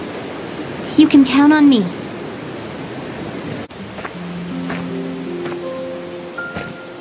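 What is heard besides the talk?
rain falling in the video game Tower of Fantasy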